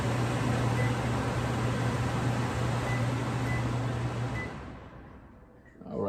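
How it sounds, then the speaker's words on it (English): A Samsung 1.9 cu ft over-the-range microwave's vent fan runs with a steady airy whoosh and low hum, then winds down and cuts off near the end. "The fan."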